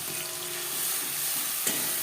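Cumin frying in oil with tomatoes, ginger and green and dried chillies just added, giving a steady close sizzle with one brief clink of a utensil and no voices.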